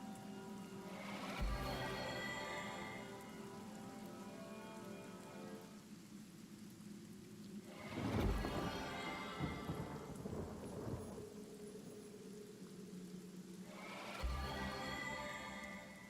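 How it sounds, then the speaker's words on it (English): Steady rain in the video game Divinity: Original Sin falling with heavy rumbling swells of thunder rolling in at intervals, a constant wash of drops underneath. "A little bit of rain indoors."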